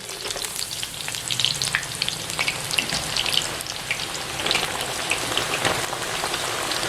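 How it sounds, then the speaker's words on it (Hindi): Eggplant frying in hot oil at a dhaba, after potatoes were fried in the same oil, gives a steady, close, dense crackling sizzle with scattered pops, unbroken and without talk. "तो अब बैंगन को भी इसी ऑयल में डाल लेते हैं"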